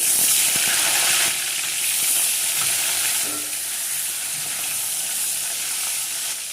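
Fish pieces fry in hot oil in a pan, a loud dense hiss of sizzling that dips slightly after the first second and carries on steadily, with a few faint clinks.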